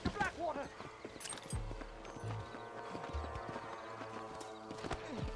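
Horse hooves galloping in Red Dead Redemption, a fairly quiet rhythmic clip-clop under game music, with a brief whinny and voices near the start.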